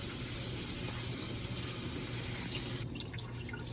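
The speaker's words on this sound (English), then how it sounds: "we're gonna rinse them in here thoroughly" Tap water runs steadily into a kitchen sink, rinsing broccoli held in a colander, a continuous close splashing hiss that thins and changes slightly near the end with no talking.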